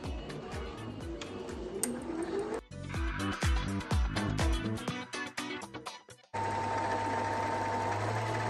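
A sewing machine winds thread onto a bobbin, fed through the needle: rapid clicking stitches in bursts with brief pauses, then a steady, faster whirring run with a motor whine, close and clear.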